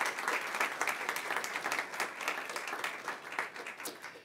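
An audience applauds research award winners at an open data forum ceremony, a steady, fairly distant wash of many hands clapping without a break.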